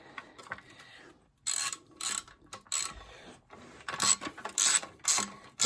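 A ratchet wrench clicks in short bursts as it turns a bolt on a Honda CL350 chain guard, with uneven rapid ratcheting strokes close by and quiet handling noises in between.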